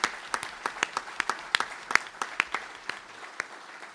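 At a lecture event, a modest audience claps in sparse, distinct individual claps, fairly close and thinning out toward the end, with no talk over it.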